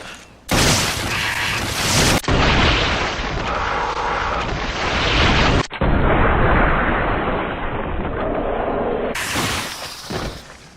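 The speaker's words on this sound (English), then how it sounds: "taking the most powerful magnum fully upgraded to a standard Magini's head, and watching the explosive result headshot, and adding my reverse and slow-mo effect" A fully upgraded Smith & Wesson M500 magnum fires a headshot in Resident Evil 5, heard as heavy, loud booming blasts that are stretched and reversed in slow motion, with several long roaring bursts and no talk.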